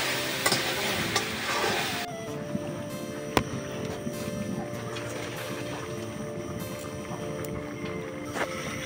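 Vegetables fry in a pan in a village kitchen with a steady close hiss and sizzle, marked by stirring scrapes and one sharp clack of a utensil, and no talk.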